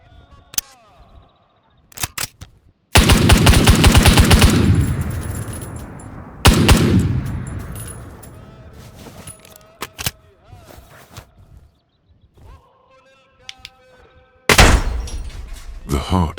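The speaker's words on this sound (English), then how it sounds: "The heart is pounding to the rhythm of distant gunshots." Sharp, loud gunshot bursts ring out one after another with long echoing decays, separated by quieter stretches, set against an empty, shot-through building.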